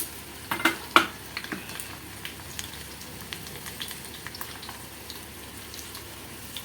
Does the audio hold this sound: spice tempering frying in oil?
yes